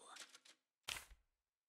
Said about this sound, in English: I actually like that you can hear the typewriter in the background.